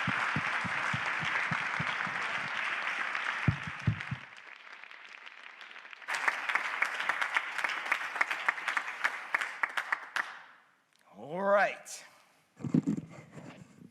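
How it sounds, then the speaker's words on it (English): Audience applause at a live university Three Minute Thesis final, a sustained round of clapping that fades out, then resumes in bursts mixed with voices and cheers. "Let's give our contestants another round of applause."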